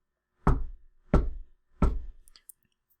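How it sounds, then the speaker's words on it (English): Three evenly spaced, polite knocks on a wooden door, each a sharp close rap with a short decay, followed by a faint small click. "The knocking continued, 3 polite raps every 5 seconds,"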